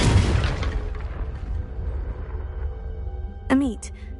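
Confringo, the fire spell in Hogwarts Legacy, bursts open with a loud, close explosive boom that rumbles and fades out over a few seconds. A short high warbling magical chime rings out near the end.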